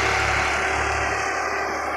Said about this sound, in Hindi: देखो भाई ट्रैक्टर स्लिप काट रहा